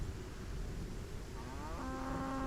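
A brown cow in the PS4 game Everything lets out a single low, drawn-out moo near the end, quiet and alone over a soft background hum.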